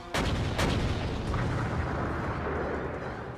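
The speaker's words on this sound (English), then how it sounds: "The Nautilus shudders as its guns fire relentlessly, showering the city below it with shells." Heavy guns on the Nautilus airship in Code: Realize fire on London, loud booming blasts that blend into a continuous rumbling barrage with a few sharper cracks near the start.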